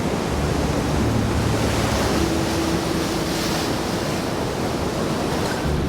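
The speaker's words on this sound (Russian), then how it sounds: "А вот океан был всегда." Ocean surf breaking on a Dominican Republic shore, a steady, full-bodied roar of waves with no pauses and no voices.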